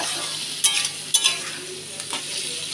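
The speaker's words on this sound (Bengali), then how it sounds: "তো চল, এদিকে আমার চিংড়িটা ভাজুক।" Shrimp frying in a pan make a steady sizzle, broken by a few sharp scraping stirs and clatters from a utensil, close and fairly loud, with no voices.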